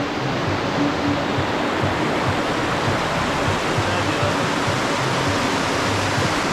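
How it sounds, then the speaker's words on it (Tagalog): The Sta. Lucia river in Nagcarlan, Laguna runs with a strong current, a loud, steady broadband rush of flowing water close by with no letup, and voices faintly underneath. "malakas lang yung agos ng tubig"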